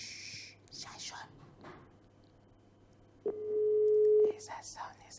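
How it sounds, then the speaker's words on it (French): Telephone ringing heard on the line as a single steady tone lasting about a second, with soft, whispered voices before and after it. "Le téléphone sonne."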